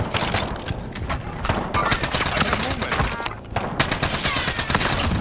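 Rapid video game gunfire crackles in dense bursts, automatic weapons hammering continuously with brief lulls, loud and close, mixed with some voices.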